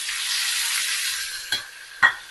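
Tomato sautéing in a pan with oil gives a steady, close hiss and sizzle, broken by two short utensil clanks near the end.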